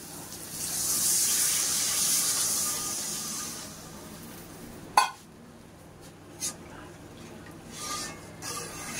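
Water poured from a mug into a pan of Bengali katla fish curry with potato, a steady gushing hiss for about four seconds, then quiet with a few light clinks of the pan.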